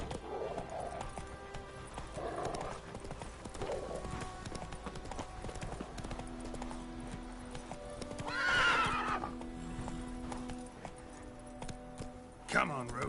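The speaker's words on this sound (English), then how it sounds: "Run, Roach." Hooves clip-clop in a steady galloping rhythm from a horse in The Witcher 3, with a loud whinny rising near the middle over game music and ambient sound, and a short sharp hit near the end.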